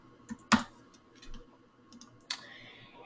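A few sparse keyboard clicks as a search term is entered, with two sharper taps standing out among faint ticks, close and quiet with no voices.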